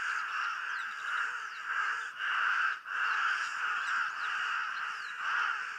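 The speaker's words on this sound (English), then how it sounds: "this is the first time I've heard such a chorus of crows" A chorus of crows caws at a waterhole, with many overlapping harsh calls forming a dense and steady din at moderate distance and no voices.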